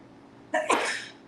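A single sharp sneeze bursts out after a quiet moment, with a quick catch and a noisy, breathy release that fades within a second.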